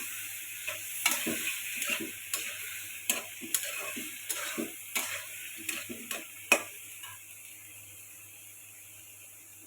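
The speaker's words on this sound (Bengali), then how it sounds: "আলুটা আমি ভেজে নিব" Potatoes fry in a pan of spiced masala, with a quiet steady sizzle under a string of sharp ticks and scrapes from a spatula stirring at an irregular pace. The stirring stops near the end.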